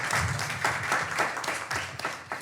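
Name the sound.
audience applause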